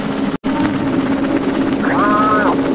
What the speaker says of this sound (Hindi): ये हेलीकॉप्टर तो अपने आप ऊपर जा रहा है